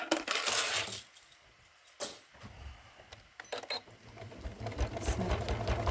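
A sewing machine stitches binding on a folded star trivet, whirring in close bursts with brief pauses and a sharp clack between runs.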